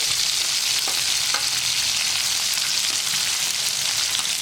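Fish frying with green chillies in oil gives off a loud, steady, dense sizzle close by, crackling evenly throughout with faint spatters and no voices.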